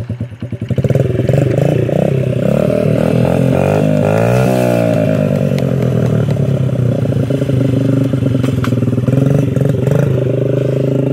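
Small 50cc motorcycle engine catches after a brief start and runs loud and close with a buzzy, rattling note, revving up and settling back into a steady idle.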